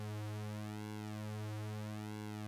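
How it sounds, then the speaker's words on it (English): A synthesizer pulse wave holds a steady buzzing tone, its timbre sweeping slowly back and forth as a very slow sine LFO modulates the duty cycle; continuous and alone, with no voices. "As it goes up and down in voltage range, it modulates the duty cycle of our pulse wave."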